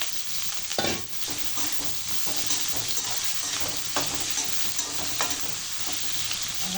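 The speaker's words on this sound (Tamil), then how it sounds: "வெங்காயம் வதங்கட்டும்" Onions frying in oil crackle and sizzle continuously up close, with occasional spatula scrapes and taps against the pan over a dense, steady hiss.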